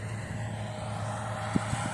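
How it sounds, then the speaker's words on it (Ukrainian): A farm vehicle rumbles along steadily during a grain harvest, giving a constant low engine drone with a couple of faint knocks near the end and no talking. "наша машинка їде."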